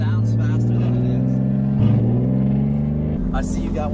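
A BMW E30 fitted with an S52 engine, heard from inside the car, gives a steady low exhaust drone and engine rumble throughout, with a brief surge near the end while people talk over it.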